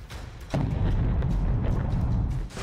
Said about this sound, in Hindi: उसका धमाका देखिए।